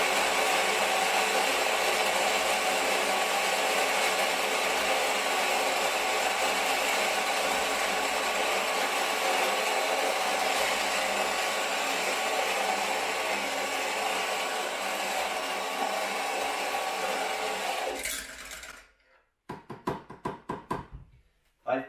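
An electric coffee grinder grinds coffee beans at a medium-fine setting with a loud, continuous whir for about eighteen seconds, then winds down and stops, followed by a few light knocks and rattles.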